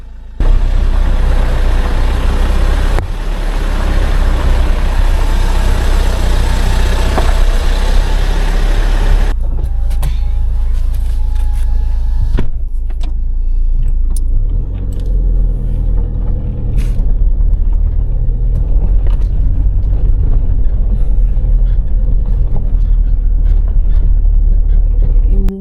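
A car engine rumbles steadily as the vehicle climbs an uphill track toward a hillside campsite in Chakrata, with a continuous low drone and people talking over it throughout.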